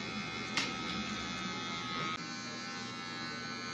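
An electric hair clipper buzzes steadily and close while cutting hair for a mohawk with a blurry fade, humming continuously with a brief bump in pitch partway through.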